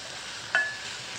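Chunks of vine-ripened tomato cooking with onions in a pan, a faint steady sizzle with one brief soft clink of a utensil partway through.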